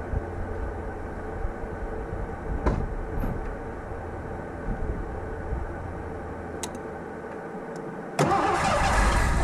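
Quiet idling rumble with a few clicks, then the big engine of a 1984 Ford LTD Crown Victoria, fed extra gasoline, abruptly cranks and catches, roaring loudly to the end.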